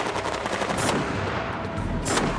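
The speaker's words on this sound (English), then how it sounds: "the bad guys are starting to shoot again" Rapid bursts of automatic gunfire crackle through a night firefight, dense and loud, with overlapping shots forming a continuous barrage and a couple of sharper volleys standing out.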